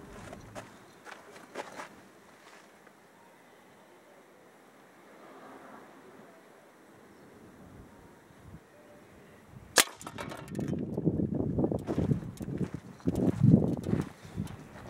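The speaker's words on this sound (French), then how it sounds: "J'arme le percuteur." The hammer of a homemade compressed-air percussion rifle, built from salvaged parts, is cocked: one sharp metallic click partway through, followed by louder rustling and handling noise, with faint background sound before it.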